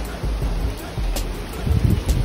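Hurricane Ida wind and weather outdoors, heard as a constant rough wind roar buffeting the microphone, with low gusty rumbles that swell toward the end.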